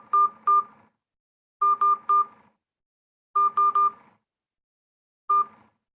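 Telephone keypad DTMF tones punching in a meeting ID, four clusters of short crisp beeps, two, three, three and one, separated by brief silences, clear and close with no voices.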